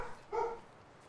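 A single short dog bark in the survival video game The Long Dark, heard once at moderate volume in quiet surroundings.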